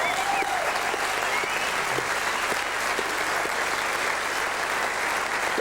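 A studio audience applauds steadily and fairly loudly for a guest joining the band during a live grand final week preview show, the clapping sustained evenly throughout with a faint whoop near the start.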